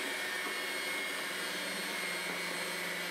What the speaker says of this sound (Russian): Увеличиваю скорость миксера на максимум и взбиваю белки в устойчивую глянцевую массу.